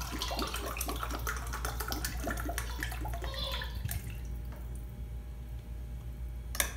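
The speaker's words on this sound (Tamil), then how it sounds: "நான் இந்த தண்ணியை ஊற்றிட்டேன்." Water is poured into a pressure cooker for chicken biryani rice, splashing and gurgling steadily, then thinning out toward the end with a few clinks.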